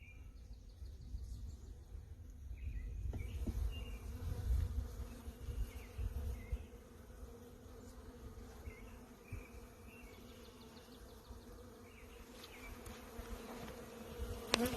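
Honey bees at an open hive during spring build-up in Michigan give a continuous close buzzing drone, with faint bird chirps in the background.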